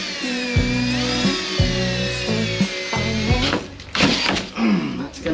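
A power drill bores slowly through the sheet metal of a van, its whining motor starting and stopping in several short bursts with changing pitch, and people talk over part of it.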